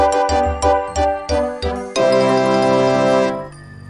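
A cheerful synthesized Old School RuneScape default level-up jingle: five quick punchy notes in a rising pattern, then a held shimmering chord that sustains before cutting off.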